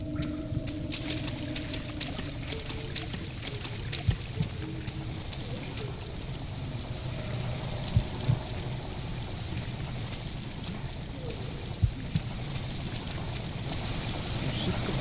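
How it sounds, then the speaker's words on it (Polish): Steady rushing water flows continuously in the video game Amnesia: The Dark Descent, a broad even wash with a few faint clicks and soft thumps now and then. "Tam jest jakaś woda."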